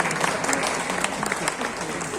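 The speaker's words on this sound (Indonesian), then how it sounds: "Tepuk tangan untuk kami." A university audience at ISI Surakarta breaks into brief, lively applause, with dense clapping and a faint crowd murmur throughout.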